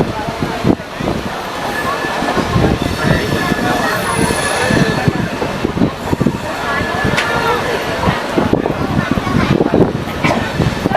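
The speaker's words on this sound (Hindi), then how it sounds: "वहाँ से हमारी ट्रेन निकल चुकी है" Pawan Express train running on the rails during a second-class journey from Mumbai to Darbhanga: loud continuous rumble with rattling clatter, wheel squeal and clicking joints, heard close from on board.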